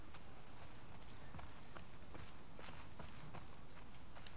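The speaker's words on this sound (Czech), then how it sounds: "Bereme koně." Horse hooves clop in a soft, irregular rhythm while a horse is ridden in the video game The Last of Us Part II, set within a quiet, constant ambient bed.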